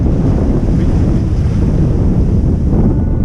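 Strong wind buffets the microphone over the rushing wash of waves at sea, a loud, constant roar with no voices.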